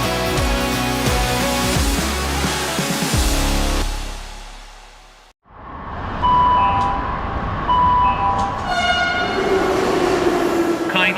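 A Delhi metro train arrives at a platform, a loud rumble and rattle of cars that fades to near silence before the station noise returns and a horn sounds with brief tones, under the hubbub of the station.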